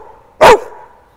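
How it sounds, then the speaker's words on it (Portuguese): A dog gives one sharp, loud, close bark that stands out against a quiet background. "Espero ela parar de latir."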